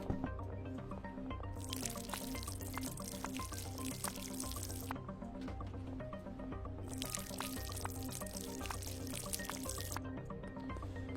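Water being poured onto potted plants in the video game Schedule 1, two long bright splashing pours over a steady background of soft dripping and ambient music-like tones, quiet overall.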